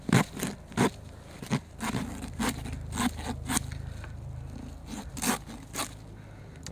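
A flipper zip saw cuts with repeated scraping rasps in an uneven rhythm, close and moderately loud, with a steady low hum underneath.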